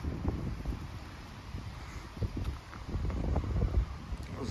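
Strong wind buffets the microphone outdoors, a continuous rough rumbling roar with gusty surges and no voices.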